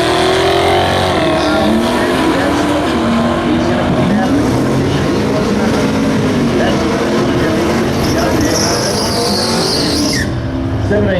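Drag race cars launching from a handicap start, a heavy Chevy among them, at a winter nationals meet: a loud, continuous roar of big engines with tyre squeal and rising revs throughout, and a commentator talking underneath.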